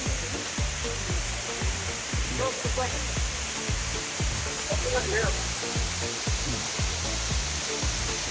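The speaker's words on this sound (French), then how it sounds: "Voilà, on entend son eau." Fa'aruma'i waterfall in Tahiti, a steady, loud broadband roar of falling water pouring into a pool, constant and close, with faint scattered sounds over the rush.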